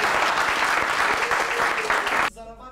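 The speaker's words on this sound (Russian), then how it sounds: "Аплодисменты, друзья!" Audience applause at a spring student quiz tournament of a republican intellectual league in Karachay-Cherkessia, loud and sustained for about two seconds before cutting off abruptly into quieter room sound.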